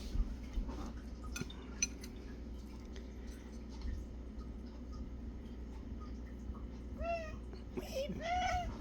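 A couple of short cat meows near the end, after quiet background clinks and a low hum.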